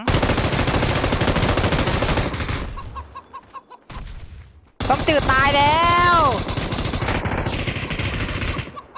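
Automatic gunfire in the battle royale video game PUBG, bursts of rapid shots loud at the start and again in the second half, with a voice talking over the shooting.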